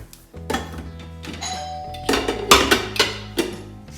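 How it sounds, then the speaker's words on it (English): A doorbell chimes several times in bright, ringing tones that fade between strikes, fairly loud and near, with no speech over it. "And then we answer the doorbell, apparently."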